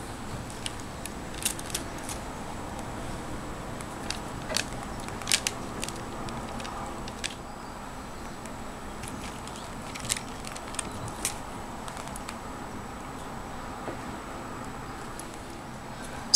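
A hard lemon lavender cold process soap loaf is sliced with a series of faint, sharp scraping clicks scattered irregularly over a quiet room background.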